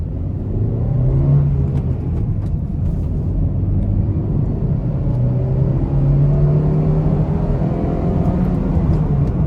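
A Honda City i-VTEC, third generation, drives along a road with a steady low engine drone that slowly rises in pitch as it revs, loud and continuous throughout with no talking.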